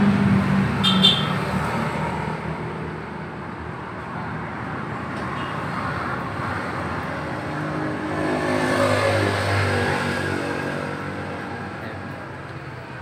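A motorcycle engine with a flooding, leaking carburetor idles steadily and fairly loudly nearby, its rough drone swelling briefly as if revved partway through.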